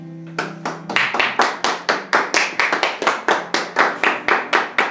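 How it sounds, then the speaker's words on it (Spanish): A church congregation claps in unison, sharp rhythmic beats about three per second, loud and close, which start after a brief held tone and keep going steadily. "Vamos a darle un aplauso a Dios."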